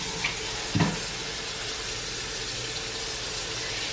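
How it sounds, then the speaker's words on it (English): Tap water runs steadily over a frozen acai packet, a continuous close hiss with a brief knock of the packet early on and no talking. "I usually just run it under the water for about 30 seconds"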